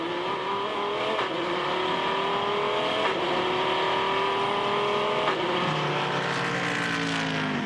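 A Dodge Viper GT race car engine revs loud and continuous during an American Le Mans Series race at Oak Tree Grand Prix, with pitch rising and dropping through gear changes as it passes, no talk.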